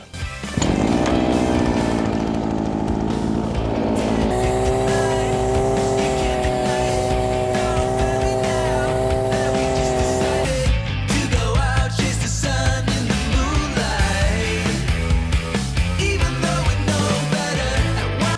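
A Grand petrol brush cutter fitted with a carbide-tipped metal disc cuts grass. Its two-stroke engine screams loudly and steadily close by, first with a sustained high whine and then with a rougher, fluctuating drone as the blade works through the growth.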